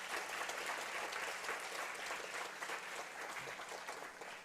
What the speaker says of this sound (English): They receive a big round of applause for that.